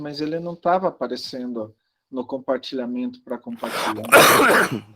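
A person coughs with a harsh burst near the end, following someone talking in Portuguese during an online class session.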